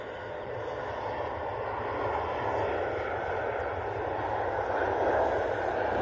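An Airbus A380 taxis past very close, its engines making a broad, steady roar that swells gradually and stays strong throughout.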